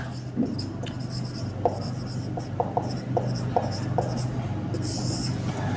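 Chalk or marker scratches across a classroom board during a physics lesson, a steady run of short strokes and taps close by over a constant low hum, with no voice.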